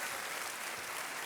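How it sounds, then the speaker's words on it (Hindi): Studio audience on a TV quiz show applauding a winning contestant, a brief, even burst of crowd clapping, fairly soft and continuous. "तालियों के साथ इनका स्वागत"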